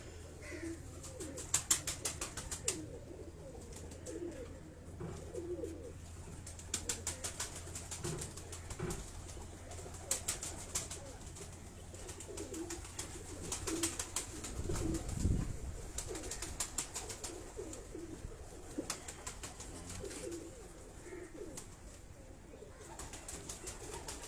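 Pigeons held in hand coo softly with low, rolling calls, faint and close, among light rustling and scattered wing flutters in a breeder's loft in Karachi.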